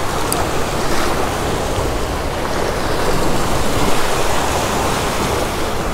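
A strong wind blows along a Maine seashore during striped bass fly fishing, a loud, constant rushing roar mixed with surf, with no talking.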